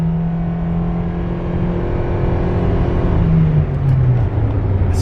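A Nissan Cube's engine accelerating from inside the car, a steady rising drone with a gear change partway through, loud and close with no talk.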